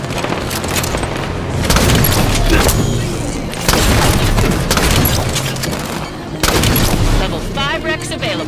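Repeated loud grenade explosions and heavy gunfire in a first-person shooter match, booming blasts in dense bursts with brief lulls between them.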